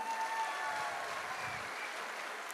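Faint clapping from an audience at an AWPL business platform gathering rises briefly as a steady wash of applause, with low room noise underneath.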